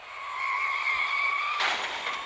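Car tires skid in a racing video game, producing a steady, loud high-pitched squeal that holds for about a second and a half before breaking into a rougher, noisier scrub as the slide ends.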